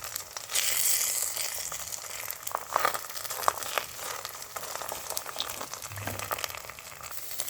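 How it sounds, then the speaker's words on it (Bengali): Eggs frying softly in oil in a wok, giving a quiet, continuous crackle and spatter with faint scattered pops throughout. "ডিমগুলো আমার ঝুড়ি ঝুড়ি করে ভেজে নিতে হবে"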